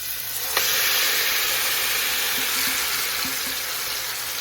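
Marinated chicken sizzles after going into hot ghee, oil and masala, a steady loud broadband hiss with a sharp onset and a few faint clicks and taps over it, no one talking.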